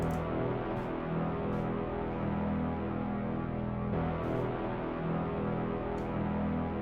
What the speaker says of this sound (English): I got this brass from my resonance multi-kit and just put it down every 2 measures.